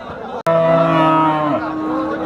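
A Jersey heifer at a cattle market moos loudly once in a long, steady low call with clear harmonic bands, close by, after a brief pause at the start.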